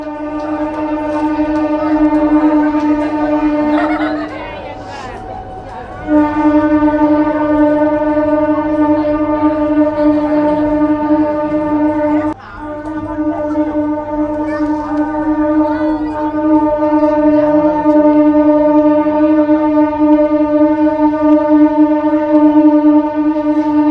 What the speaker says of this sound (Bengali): আউটার দিয়ে ধীরে ধীরে এগিয়ে যাচ্ছে বড় গোপীনাথপুর রেল স্টেশন ছেড়ে জয়রামবাটি বাঁকুড়া উদ্বোধনী ইনোগ্রাল স্পেশাল ট্রেন